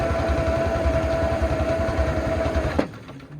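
Armoured car engine idling steadily and close after ignition, a rhythmic low chugging with a tonal whine that cuts off abruptly near the end, leaving a faint tail.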